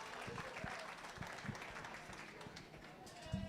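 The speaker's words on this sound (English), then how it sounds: "Go ahead and put your hands together. Give them a nice round of applause." A crowd claps at a 4-H market goat show at the Elbert County Fair, scattered applause for the young exhibitors with sharp individual claps and an announcer talking over it.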